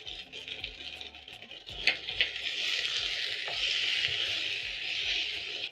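Onions and vegetables for chakalaka sizzling in a pan, a steady hiss of frying that swells as more vegetables go in, with a few clinks and stirring sounds near the start.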